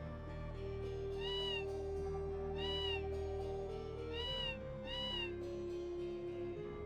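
Cartoonish cat meows from the Tales of Phantasia video game, four short rising-falling calls spaced a second or more apart over a steady looping background melody.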